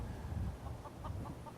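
Chickens clucking in a video game settlement, a short run of soft, evenly spaced clucks, faint and somewhat distant over low background rumble.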